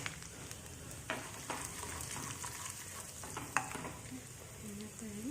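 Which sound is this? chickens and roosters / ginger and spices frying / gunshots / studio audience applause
ginger and spices frying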